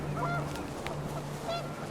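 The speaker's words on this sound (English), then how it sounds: "The wind picked up and panicked geese appeared and quickly went." Geese honk in the video game What Remains of Edith Finch, a few scattered calls close by over a steady windy background hum.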